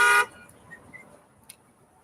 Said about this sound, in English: He said, yeah, honk all you want.